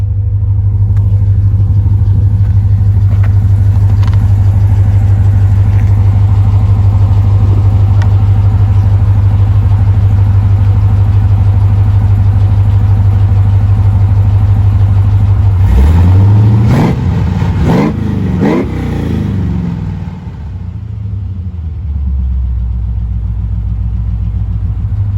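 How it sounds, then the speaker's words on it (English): The engine of a 1988 Chevrolet Suburban with 3-inch stainless exhaust idles with a loud, deep rumble, then near the end is revved several times in quick succession, each rev rising and falling before it settles back to idle. "I'll put the camera back here so you can hear a couple of revs."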